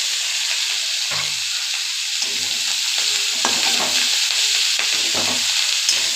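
Greens with beans and fried egg sizzle steadily in a hot pan, with intermittent scraping stirs over the continuous loud frying hiss, close up and without voices.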